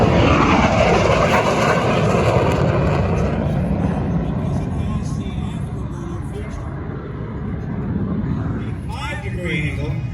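MiG-15 jet fighter flying over Santa Maria Airport during an airshow, a loud continuous engine roar steady through the clip with someone talking over it.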